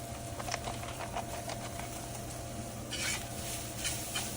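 Chopped onion, celery and bell pepper hit a roux in a pot with a soft steady sizzle, a low hum running beneath, and light rhythmic whisk scrapes and taps, with no one talking.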